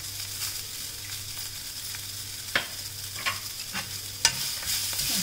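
Fenugreek chutney ingredients with a small piece of tamarind and salt sizzle steadily while being sautéed in a pan, with a few sharp spatula scrapes and clicks rising over the continuous frying hiss.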